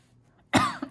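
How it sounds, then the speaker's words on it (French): A single short cough, close and sudden, after a moment of near silence. "Je m'excuse, j'ai toujours cette toux"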